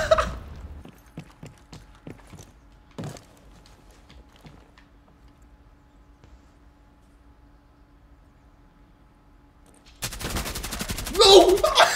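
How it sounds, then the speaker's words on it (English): Gunfire in Rainbow Six Siege: several sharp, separate shots crack in the first few seconds, followed by a quiet stretch and then a burst of loud noise at the end. "He's shooting me."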